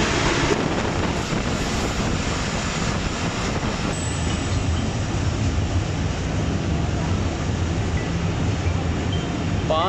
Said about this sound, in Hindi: 127 अब महर एक्सप्रेस पहुंच रही है शेरशाह जंक्शन रेलवे स्टेशन पर